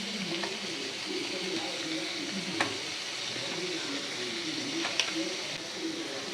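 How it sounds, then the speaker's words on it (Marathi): Cleaned prawns sizzle in a hot pan for a prawn biryani, giving a soft, even frying hiss with a few faint clicks of stirring. Low, steady voices can be heard in the background. "आता आपण ही कोलंबी जी साफ करून आणि स्वच्छ पाण्यात धुवून घेतलेली आहे ती आपण टाकणार आहोत"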